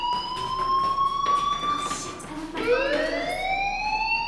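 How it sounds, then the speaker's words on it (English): A fire alarm sounds in the video game Life is Strange as a steady electronic wail, loud and continuous, that dips and rises sharply midway before holding its high pitch again. "do you hear that fire alarm? That means you should be outside."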